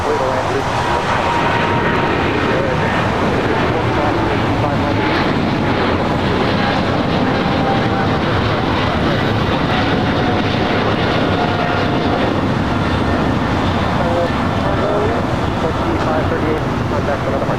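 A heavy Qantas airliner landing at LAX airport gives a steady, broad engine roar that holds at high level throughout, with radio chatter and wind rumble mixed underneath.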